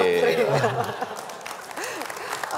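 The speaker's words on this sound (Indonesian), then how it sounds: "tepuk tangan" Audience applause at a televised anniversary celebration for Metro TV's 18th year, clapping beneath a man's ongoing speech for about a second before thinning into scattered claps with some chuckling.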